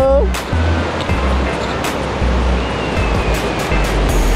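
Surf rolling onto the wide, open beach of Teleng Ria in Indonesia, a steady wash of waves with low rumbling swells and brief clicks and knocks, while a voice speaks over it.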